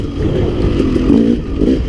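A KTM 300 XC two-stroke dirt bike engine runs steadily in a low, throaty drone with slight surges, held near and loud with no talk.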